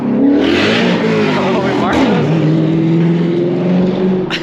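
A 2024 BMW M4 Competition engine revs loudly and close, pitch climbing, dropping, then holding a rough sustained roar throughout.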